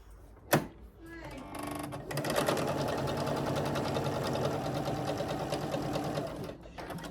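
A sewing machine stitches a diagonal seam across fabric: a sharp click, a brief whir, then a steady fast mechanical rattle running several seconds before stopping, close and moderately loud.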